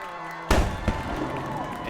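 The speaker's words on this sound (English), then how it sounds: "And you hear the cannon going off." A cannon fires at a high school football game between Paulding County and East Paulding, one sharp loud boom that cuts through crowd noise and a commentator's talk, followed by a brief echoing tail.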